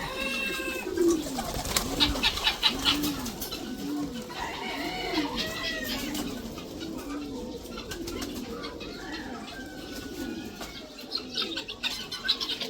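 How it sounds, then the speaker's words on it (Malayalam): Fancy pigeons with crested heads and ornate feathers coo over and over in soft, rolling calls, joined by scattered chirps and an occasional flutter of wings close by. "നല്ല തൊപ്പി പോടുള്ള നല്ല തൂവലൊക്കെ വെച്ചിട്ടുള്ള പ്രാവുകളുണ്ട് ഇവിടെ"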